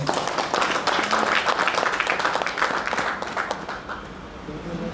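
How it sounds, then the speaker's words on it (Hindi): Sustained audience applause at a business growth-plan meeting, a dense steady wash of many hands clapping for several seconds, fading slightly toward the end, with no clear talk over it. "जोरदार ताली बजा दीजिए एक बार अपने में"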